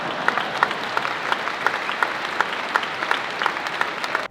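Steady audience clapping at a franchise convention talk, loud and continuous with distinct individual claps popping through a full crowd for the whole stretch.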